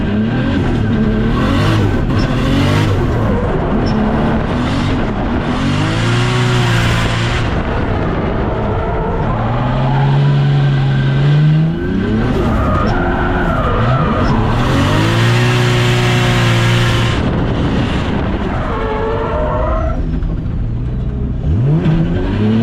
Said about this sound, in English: we're going for a second lap, and I'm gonna try third gear,